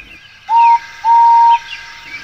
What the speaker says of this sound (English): "Yes, I am," whistled Henry.